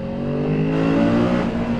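A Kawasaki Z650RS motorcycle engine revs hard inside a tunnel, a loud, close, rising drone echoing off the walls with no talk.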